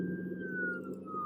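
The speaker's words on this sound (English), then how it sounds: "Do you want the police siren?" A police siren sound effect, a single sustained wailing tone that slowly falls in pitch over a low engine-like hum, steady and fairly loud.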